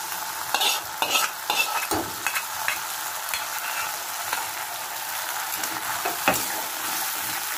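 Lottia fish fries in a pan with tomato, ginger and garlic, giving a loud, steady sizzle and crackle, with a cluster of sharp scraping stirs early on and occasional stirs later.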